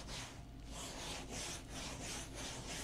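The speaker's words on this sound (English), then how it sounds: "I'm gonna grab my sanding block now and blend it all together." Surfboard foam being sanded with a 40 grit sanding block in long, rhythmic back-and-forth strokes, a close, steady rasping scrape repeating about every half second.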